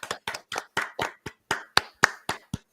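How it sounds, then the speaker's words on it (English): About a dozen sharp hand claps at a quick, slightly uneven pace, close and clear with no voices. "Everyone, round of applause."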